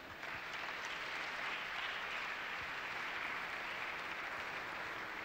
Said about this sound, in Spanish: Les pido también un aplauso para el embajador Montaño.